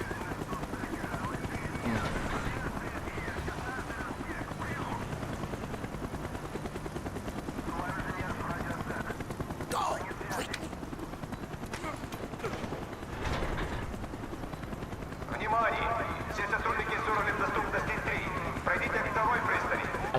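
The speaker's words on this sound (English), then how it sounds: "did I get spotted by the helicopter?" Helicopter rotor drone and scattered gunfire from the Call of Duty: Black Ops video game on PC during a stealth mission, steady throughout with bursts of louder action near the end and people talking over it.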